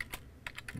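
A few quick computer keyboard keystrokes as a file name is typed, four or five crisp close clicks in a short burst, quiet and with no talking.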